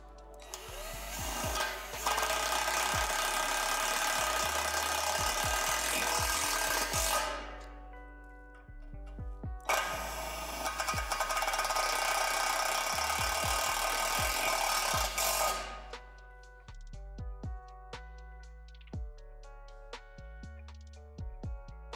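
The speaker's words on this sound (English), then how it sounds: "Now we're going to secure the poles together by inserting a self-tapping screw into the small hole at the bottom of the middle pole" Power driver whirring as self-tapping screws are driven into the bottom of a Lifetime 54-inch portable basketball system's poles, two sustained close bursts of several seconds each, followed by scattered metallic clicks and taps.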